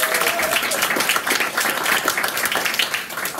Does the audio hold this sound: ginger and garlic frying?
no